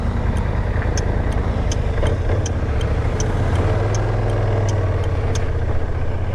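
A Kymco AK 550 Premium maxi-scooter engine idling close by, a low, steady, even rumble with a faint rhythmic ticking on top, running alone without talk.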